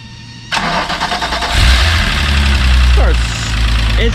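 A Volkswagen MK3 VR6 turbo wagon engine cranks and catches after a short pause, then settles into a loud, rumbling idle close to the microphone.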